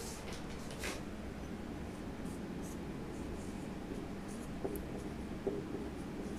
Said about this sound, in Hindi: हेडिंग लिखते हैं एक्टिव ट्रांसपोर्ट